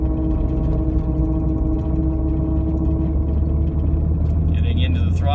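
A Jeep drives steadily at about 20 mph, with a continuous engine and road rumble and a constant droning tone throughout, fairly loud and close, with a brief higher whine near the end.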